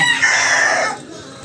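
One loud rooster crow, a bright sustained call lasting about a second before cutting off into quiet.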